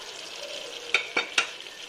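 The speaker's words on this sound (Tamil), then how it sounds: "நல்லா கலந்து விட்டுக்குங்க." Cooked dal being stirred into ponnanganni greens in a pan, with a soft sizzle under three distinct scraping strokes of the spoon close by.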